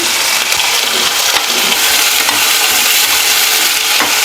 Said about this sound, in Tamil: சுண்டக்காய் கழுவுனதுனால ஈரம் இருக்கிறதுனால அப்படி சரசரன்னு ஒரே சவுண்டாக இருக்குது